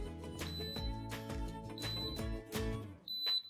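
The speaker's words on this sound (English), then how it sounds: "Press the button to cancel the alarm." An xTool fire safety set for laser machines sounds its alarm, with repeated loud electronic tones cycling over a few seconds, alone.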